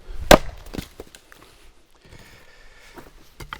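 A Fiskars X25 axe splitting wood outdoors, with one sharp, loud chop and a few quieter knocks and splintering clatter as pieces fall.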